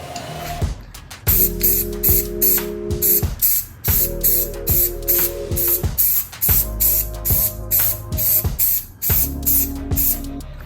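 Loud, close hissing bursts of a spray paint can applying a light coat to car emblems and grille of a Hyundai Tucson, several sprays of a second or two each separated by short pauses, with a faint mechanical hum beneath.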